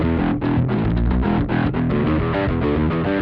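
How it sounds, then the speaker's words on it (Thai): A heavily distorted Sire Marcus Miller M6 headless bass guitar plays a riff of gritty, sustained notes, loud and continuous with no voices. "เล่นกับเสียงแตกก็จะเป็นยังไง"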